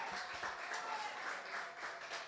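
A church congregation applauds, a brief steady wash of many hands clapping at moderate distance.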